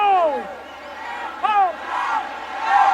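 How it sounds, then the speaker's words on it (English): A stadium crowd roars and whoops loudly at a rugby league match between the PNG Kumuls and Fiji in Port Moresby, a sustained swelling cheer with a commentator's voice over it. "Nene McDonald telling the crowd to get really loud in Port Moresby"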